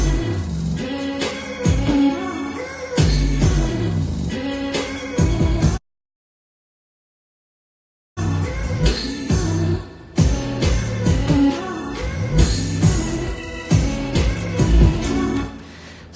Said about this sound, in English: And then I added the beat to it, which sounds like this.